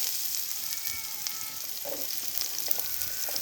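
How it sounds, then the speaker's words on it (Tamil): Chopped onions fry in a ladleful of hot oil on a stove, giving a steady, dense sizzle and crackle throughout with a few faint stirring scrapes, close and continuous, with no talking. "எண்ணெய் நல்லா சூடானதும் நம்ம நறுக்கி வச்சுருக்க வெங்காயத்தை அதில் போட்டுடலாம்"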